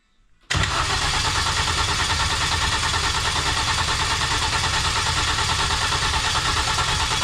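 Mini R50 race engine being cranked without firing, a loud continuous whirring starter drone that begins abruptly after a brief silence and holds steady to the end.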